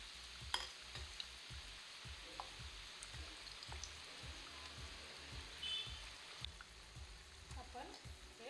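Batata vada fry in oil over low heat, a faint, steady crackling sizzle with a regular series of soft thumps or taps throughout.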